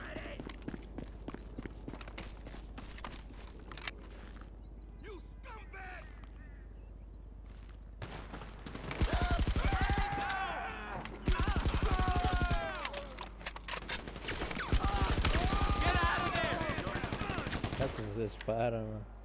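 Gunfire in GTA V around a motorcycle club's clubhouse meth lab, bursts of rapid shots in several loud clusters, mixed with footsteps and scattered game noise, with a voice talking between the bursts.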